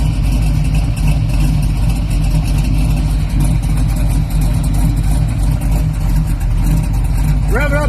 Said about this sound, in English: Rev it up a couple times.